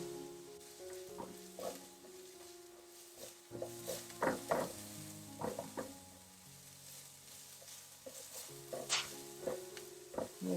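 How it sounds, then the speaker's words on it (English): Garlic and ginger sautéing with onion for a cruciferous vegetable rice, a soft steady sizzle with intermittent stirring scrapes and a low hum beneath, fairly quiet and close. "Then you put in the garlic and the ginger to saute for another minute or so"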